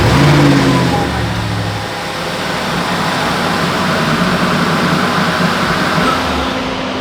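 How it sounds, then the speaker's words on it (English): An Audi performance engine (RS7/RS6/SQ7/SQ8/RSQ8 family) cranks and catches right after an oil change, then holds a loud, steady rev close by with no talk. "let's go ahead and start the car up"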